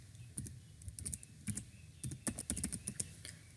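Soft, close keyboard typing as an email address and password are entered at a login page, with irregular clusters of light key taps and no voices.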